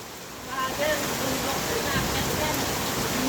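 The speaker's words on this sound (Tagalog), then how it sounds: "Madulas umuulan." Steady heavy rain pouring down, a dense continuous hiss that swells after a moment, with faint voices underneath.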